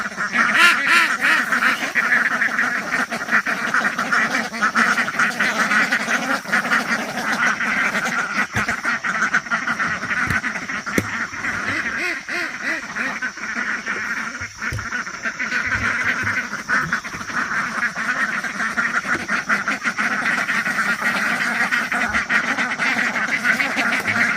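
A flock of ducks quacks continuously and loudly, with overlapping calls and some honking, no talking, steady throughout.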